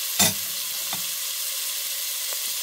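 Yellow onion with salt and pepper fries in a pot, giving a steady soft sizzle and hiss with a brief stirring clatter at the start and faint scrapes after.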